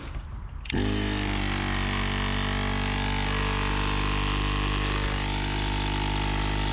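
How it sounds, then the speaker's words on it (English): An air compressor for inflating the tires of an abandoned Ghostbusters Ecto-1 starts up abruptly and then runs as a loud, steady motor drone with a constant mechanical hum, close by and with no voices. "Setting up the air compressor and inflation equipment"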